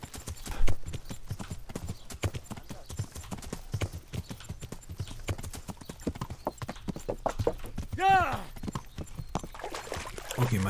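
Horse hooves in Kingdom Come: Deliverance clip-clop in a steady walking rhythm throughout, close and moderately loud, with a brief neigh near the end.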